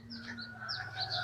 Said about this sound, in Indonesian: Ini di sini ada ayam hutan merah Sumatera ini.